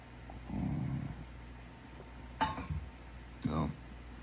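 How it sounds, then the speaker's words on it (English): Dogs outside whine and growl to be let in, with a low, rumbling growl early on and two short, sharper vocal bursts later, heard at moderate distance against a quiet room. "Dogs want to come in."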